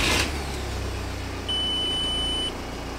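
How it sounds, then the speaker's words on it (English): Audi A4 TDI diesel engine starting and then idling, a low steady rumble after a brief start burst, with a high electronic beep sounding for about a second midway. "let's turn the car on and see if it's in boost"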